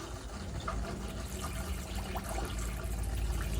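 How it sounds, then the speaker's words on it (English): Hot water runs steadily from the tap of an Ace Airstream 630p caravan, a continuous broadband rush of flowing water lasting throughout with no talk. "come over to the tap and pull the hot water."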